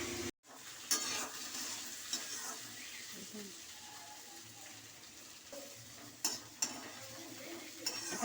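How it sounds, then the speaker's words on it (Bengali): Egg and potato bhaji fries quietly over low heat without water, giving a soft steady sizzle broken by a few sharp utensil scrapes and taps against the pan. "এটা অল্প আঁচে ভাজা ভাজা হবে, নরম হবে।"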